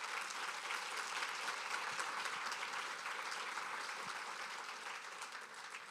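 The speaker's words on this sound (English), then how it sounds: "I think maybe another round of applause for Cyrus" Steady applause fills a symposium hall as an audience claps for the speakers, dense and sustained throughout, with no voices over it.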